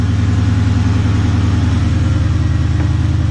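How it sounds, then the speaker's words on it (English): A Dodge Challenger V8 runs close and loud with a steady, deep exhaust drone, holding a fairly even level with no sharp rise in revs. "I'm gonna give it a quick rev"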